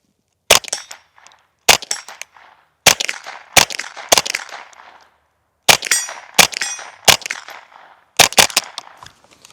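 Seven sharp, cracking supersonic gunshots from a .22 rifle with a Dead Air Mask 22 suppressor, fired at irregular intervals, each a loud snap with a brief ringing tail, close by and with no talking.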